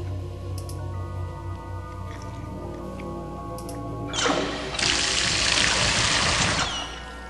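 Running water gushes on in Zork Nemesis, a loud steady hiss that starts abruptly partway through over a humming, tonal game background and keeps flowing to the end.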